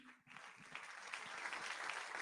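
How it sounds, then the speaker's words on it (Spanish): Church congregation applauding during a sermon, a brief burst of clapping that swells and holds steady, fairly distant and soft. "¿Quiere darle un aplauso al Señor?"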